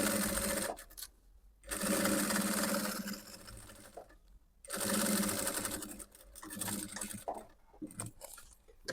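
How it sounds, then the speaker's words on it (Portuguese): A sewing machine stitches a seam on the synthetic leather lining of a box in bursts of rapid mechanical whirring, with short pauses between runs, close and clear. "E passar novamente essa costurinha aqui, todo o prolongamento aqui da peça."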